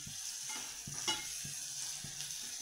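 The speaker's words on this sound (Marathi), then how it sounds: "छान असा हा कांदा आपल्याला भाजून घ्यायचा आहे." Chopped onion roasting in a pan for pawata rice, with a faint steady sizzle and a few soft spatula stirs and scrapes at irregular intervals, close and quiet, with no talking.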